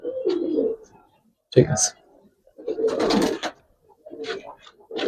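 Giribaz and Pankhi pigeons coo in several short bursts at close range, with a brief voice speaking between the calls.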